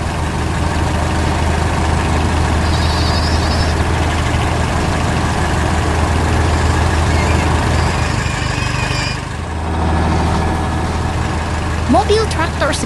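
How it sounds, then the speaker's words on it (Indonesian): A tractor engine works hard on a farm beside cornfields, lifting hay bales with a steel bucket; a steady low diesel drone runs throughout, with a brief dip near the end. "Mobil traktor sedang bekerja keras, mengangkat balai hai dengan cangkang baja, membuat suasana lebih bersemangat."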